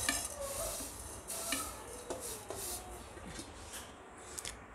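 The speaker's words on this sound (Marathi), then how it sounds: "आता इथे आपण आपल्या शेवळ्या टाकून देऊ सगळ्या." Vermicelli tipped into ghee in a pan for nawabi sewai, a soft close rustle and light sizzle with gentle stirring scrapes, fairly quiet and without speech.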